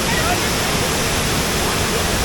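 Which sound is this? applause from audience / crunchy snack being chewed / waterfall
waterfall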